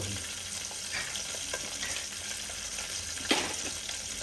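Sliced onions and green chillies frying in hot oil for a fish curry, a steady close sizzle with light stirring scrapes and one sharp clatter of a utensil near the end, no voices.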